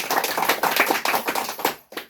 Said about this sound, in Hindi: एक बार रामानंद का कम्युनिटी का ग्रुप का मीटिंग होते हुए एक बार ताली बजा दे।